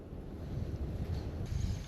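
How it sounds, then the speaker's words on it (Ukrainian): Moderate wind buffets the microphone with low rumbling gusts, quiet and continuous, with faint water noise beneath, while fishing for zander on a Dnieper bay. "Сьогодні вітер такий помірний і не сильно нам заважає"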